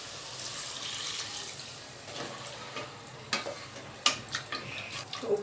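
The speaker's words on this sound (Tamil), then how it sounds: "இப்போ தண்ணி ஊற்ற போகிறேன்." Water poured into a pan of pepper chicken in masala, a gushing splash and hiss that settles into softer sizzling, followed by a few sharp clinks and stirring knocks, close up without speech.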